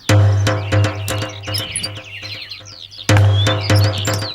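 Birds chirp while being fed, bright twittering calls in quick bursts over a loud low steady hum and sharp clicking sounds, fairly close.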